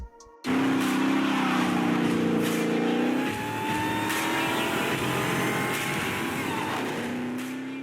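A Dodge Challenger SRT Hellcat Redeye with its supercharged engine fires up abruptly and roars loudly, holding a high whining rev for a few seconds before dropping to a lower, steady growl that slowly climbs again.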